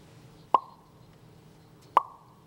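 A mouth imitates a cork popping out of a bottle: two short, sharp hollow pops about a second and a half apart, close and clear against near silence.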